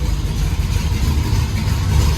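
A Holden VX Commodore fitted with an LS3 V8 idles close by with a steady low rumble and a slight miss, running on its own with no voices.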